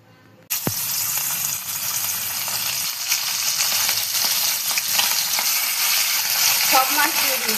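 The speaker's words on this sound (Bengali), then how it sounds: "মাছটা রান্না করে নিই, তার জন্য আমরা এখানে তেল দিয়ে দিয়েছি।" Tengra fish hit hot oil in a pan with a sudden loud sizzle after a short quiet moment, then keep up a steady, crackling fry with small pops and stirring noises.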